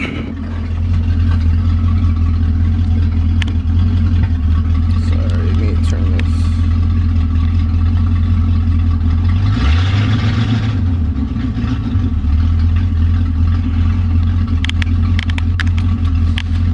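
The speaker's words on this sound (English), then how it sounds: "So as the car is warming up" A 1976 Mustang Cobra engine idles on a cold start while warming up, a steady, close, low rumble that runs throughout, with a brief spoken remark partway through.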